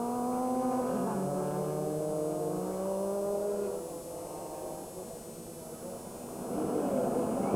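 Race cars at the 24 Hours of Le Mans in 2001, a Bentley among them, engines droning past with rising and falling pitch, one passing and fading before another approaches loud and close.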